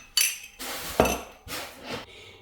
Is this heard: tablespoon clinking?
yes